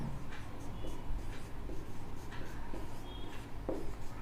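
A pen writes math on paper at close range, giving faint scratchy strokes in irregular bursts against a steady background hiss.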